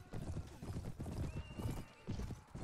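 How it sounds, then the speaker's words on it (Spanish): Horses gallop in Mount & Blade: Warband with quick, rhythmic hoof clip-clops close behind, and a whinny breaks through as two riders give chase. "Dos caballos me siguen."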